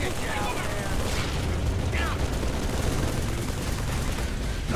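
Turret fire in Halo 3 hammers steadily over loud battle noise, a dense continuous rattle of shots with chirping alien voices and game dialogue mixed in.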